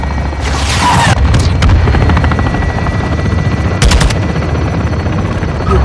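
A helicopter fire strike on marked targets in Call of Duty: Modern Warfare II: a steady rotor drone under loud bursts of machine-gun fire and booming impacts, with sharp crackling blasts in the opening second and again near four seconds.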